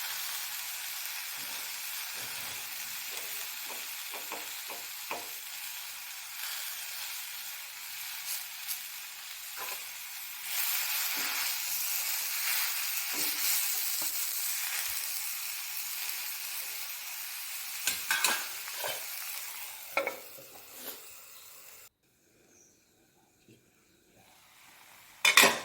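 Chopped tomato, garlic and green chili sizzle and fry in a pan while being stirred, a steady soft hiss broken by light scraping taps, cutting off near the end as a lid goes on.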